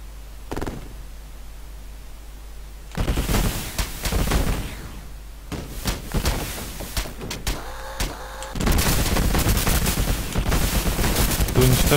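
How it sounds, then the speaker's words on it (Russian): Gunfire from the Sega Genesis helicopter game Urban Strike comes in loud, rapid bursts of crackling shots separated by quieter stretches, with no helicopter sound because of a game bug. "звук стрельбы есть, а звук вертолета нету"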